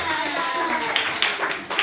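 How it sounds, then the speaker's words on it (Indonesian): Children clap for a group in a classroom, a few sharp claps in an uneven rhythm alongside voices. "kita beri tepuk tangan untuk kelompok Gema"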